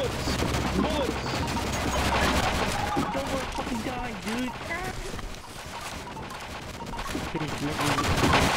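Rapid bursts of gunfire in a Counter-Strike: Global Offensive zombie escape match on a Minecraft-themed map, steady and loud throughout, with a player talking excitedly over the shooting.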